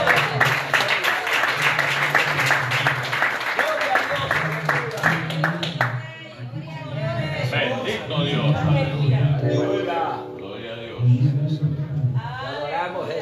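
A church congregation claps hands in praise during a worship service, steady rhythmic clapping running under a preacher's voice and song, pausing briefly midway before resuming.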